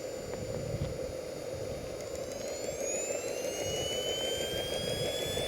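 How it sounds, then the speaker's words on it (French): Jet turbine spooling up on the back of a Kobuz aerobatic glider, a steady loud roar with a rising high whine climbing through the start-up, heard up close with no talk. "Alors, démarrage de la turbine."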